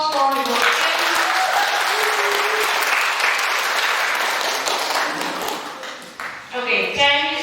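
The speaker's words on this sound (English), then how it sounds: "please give a big applause for the both teams." An audience at a school English debate final gives both teams a full, steady round of applause that tapers off at the end, where a speaker's voice returns.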